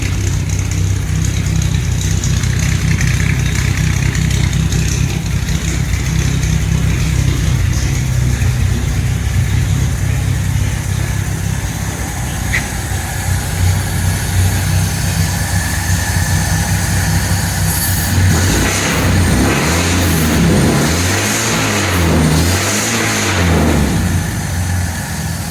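A 1948 Dodge flathead six with shotgun dual exhaust idling steadily with a low rumble, then revving up in a couple of throaty bursts near the end, close and loud.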